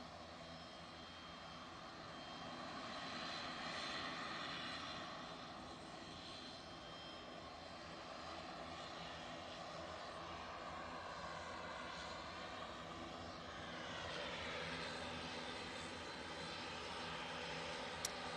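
Departing aircraft at Manchester Airport give a steady, distant engine roar that swells and fades slightly over a long stretch, with no voices over it.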